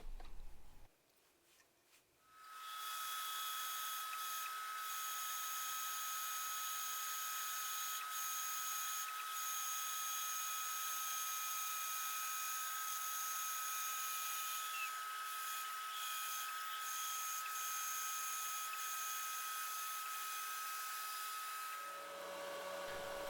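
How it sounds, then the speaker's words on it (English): After a brief quiet start, a bandsaw whines in a steady, even drone for about twenty seconds while cutting out a wooden paddle-tail fishing lure, then cuts off at the end. "next we're gonna head out to the bandsaw and do a little bit of cutting"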